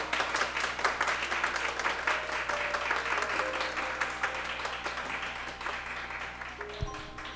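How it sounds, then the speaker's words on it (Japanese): Sustained applause from wedding ceremony guests, steady and fairly loud throughout, with many hands clapping together and no voices standing out. "温かい拍手をお届けください。"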